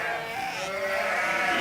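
Ewes bleating in a lambing shed, overlapping drawn-out bleats from several sheep at once, loud and close throughout.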